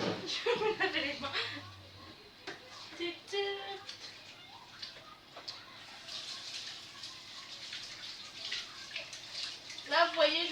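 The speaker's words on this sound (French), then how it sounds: "Je veux me laver les mains." Hands being washed under a running tap, with a steady rush of water running through the middle of the clip and people talking over it at the start and end.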